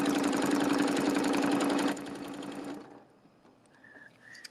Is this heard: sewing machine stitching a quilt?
yes